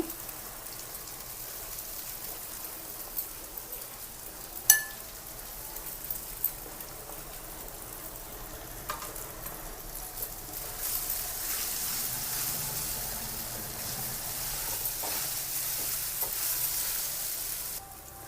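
Atukula upma (poha) being stirred and fried in a pan, a steady crackling sizzle running throughout with a few sharp scrape and tap sounds from stirring, growing slightly louder later; no talking.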